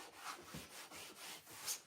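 A paper wallet rubbed down firmly by hand, a soft, steady dry scuffing that repeats in gentle strokes, close and fairly quiet, with no voices.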